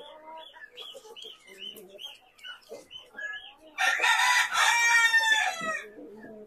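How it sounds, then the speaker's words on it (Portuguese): Chickens of the Balão GSB and Caipirão Gigante breeds in a poultry pen cluck and chatter in short bursts, then a rooster crows loudly up close for a couple of seconds before the clucking resumes. "Ah, um frango aí."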